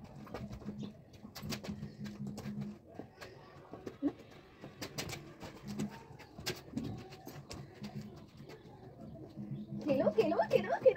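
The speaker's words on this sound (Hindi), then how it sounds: "इतने सारे पक्षी आते हैं, अलग अलग तरह के, कबूतर, चिड़िया" Pigeons coo and small birds such as sparrows call on a winter morning, with soft, repeated low coos in short phrases, mostly quiet and beneath nearby talking.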